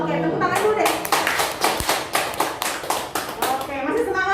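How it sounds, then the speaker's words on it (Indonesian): A group at a health cadre training session clapping hands in a rhythmic, patterned sequence of sharp claps, close and fairly loud, with some voices and shuffling underneath. "tepuk tangan dulu deh"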